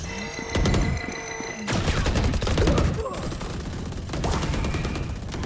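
Rapid automatic gunfire in a Valorant match: dense, loud overlapping bursts of shots run almost continuously, with short breaks between volleys.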